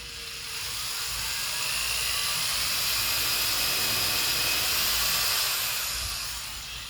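A power drill whines at high speed in one steady, continuous run, swelling slightly and then easing off, loud and close with no talking.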